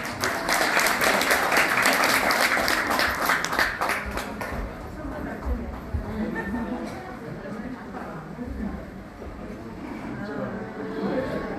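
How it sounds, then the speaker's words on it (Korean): Wedding guests at a Changwon ceremony break into loud, dense applause for university friends who just performed. The clapping fades after a few seconds into a murmuring hall with scattered voices. "멋있는 무대를 보여준 대학교 친구들에게 큰 박수 부탁드리겠습니다."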